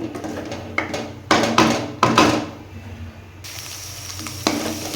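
Spicy brinjal egg fry sizzles in a pan under repeated scraping strokes of a spatula, with sharp bursts of stirring against a steady frying hiss.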